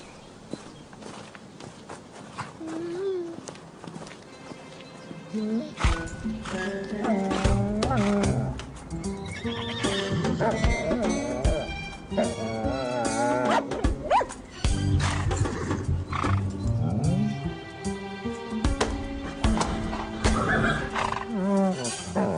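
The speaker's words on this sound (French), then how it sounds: "Il est superbe, ce cheval." A horse neighs and whinnies loudly several times amid hoof clatter and movement, with busy background sounds throughout.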